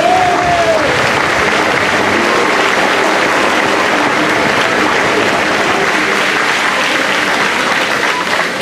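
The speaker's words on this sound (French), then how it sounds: "que vous pouvez applaudir" Festival crowd at a village fête bouquet ceremony applauding a local beauty queen, sustained loud clapping throughout, with faint murmurs.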